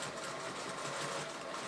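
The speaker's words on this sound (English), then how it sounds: "After sewing the parts together" Sewing machine stitching fabric pieces for a bridge hammock underquilt protector, a continuous quiet whirring buzz with steady mechanical texture and no pauses.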